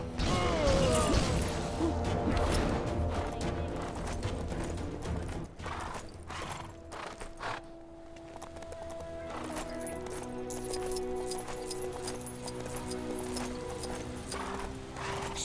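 Hooves clip-clop steadily with a horse neighing in Lego Marvel Super Heroes 2, the game's trotting rhythm layered over light mechanical clicks and background music.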